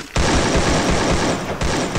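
Loud, sustained bursts of rapid automatic gunfire in a video game, close and continuous, with a brief dip before firing resumes.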